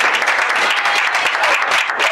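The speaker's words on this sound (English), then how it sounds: "We'll clap." Club members at a Toastmasters meeting clap together in a dense, steady burst of applause, loud and close, with no talk over it.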